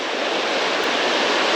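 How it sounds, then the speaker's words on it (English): Fast-moving water in a fishing stream rushes steadily and loudly close by, a dense unbroken wash with no voices over it. "When the water's moving fast like this"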